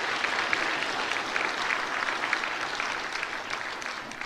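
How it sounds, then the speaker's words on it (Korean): Sustained applause from a church congregation filling the sanctuary during a Korean service, steady dense clapping throughout with no voices over it. "박수로 축하해 주시기 바랍니다."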